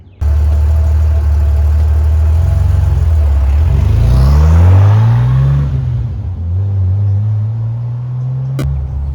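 A 1985 Bitter SC's engine rumbles steadily while driving, its pitch climbing through a revving acceleration midway before settling back to a lower cruising drone, loud and close throughout.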